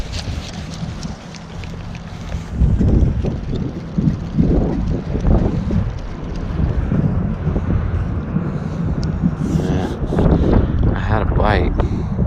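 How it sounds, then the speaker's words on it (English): Strong wind buffets the microphone beside a creek at sundown, a loud, continuous low roar with surging gusts throughout, and a faint voice speaks briefly underneath near the end. "this wind is really kicking up. I apologize if the sound is horrible"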